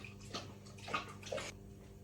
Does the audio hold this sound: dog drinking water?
yes